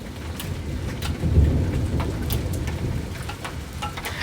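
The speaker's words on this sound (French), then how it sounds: "Ça y est, il y a de la grêle, en tout cas il y a des grêlons, regardez." Hailstones about 1 cm across bounce and patter steadily outdoors during a strong thunderstorm in Ille-et-Vilaine, a dense rain-like roar with scattered sharp clicks of impacts and a low rumble swelling near the middle, no one speaking.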